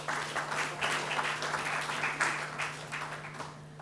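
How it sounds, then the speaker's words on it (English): Audience applause for a keynote speaker at a formal Caribbean economic integration event, fairly faint, steady clapping from a crowd over a low electrical hum. "another round of applause for our keynote speaker, Ambassador Wasilewska."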